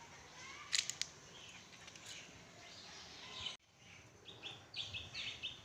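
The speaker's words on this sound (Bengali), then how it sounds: "চতুর্দিকে পাখি ডাকছে" Birds chirp in the morning outdoors, the calls faint and distant: a few brief tweets early on, then a run of short chirps near the end over a quiet background hiss.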